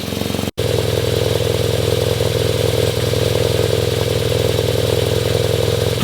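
BMW R NineT Racer motorcycle engine idling as it warms up, a steady loud close-up rumble with a brief dropout near the start, then an even idle with no talking.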